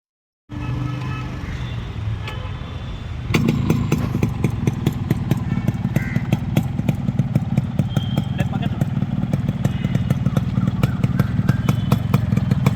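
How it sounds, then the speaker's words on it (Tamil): A Yamaha RX two-stroke motorcycle engine starts and runs close by, first idling, then revving up into a loud, rapid popping two-stroke rattle that continues steadily. "நான் சொன்னல இன்ஜின் நாய்ஸ் அப்படியே பொறுமையாக கேளுங்க"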